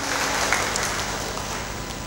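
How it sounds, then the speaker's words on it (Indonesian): A graduation-ceremony audience at a college's open senate session applauds in a dense, steady wash of clapping that holds evenly throughout, with no voices rising above it. "Tepuk tangan untuk kita semua."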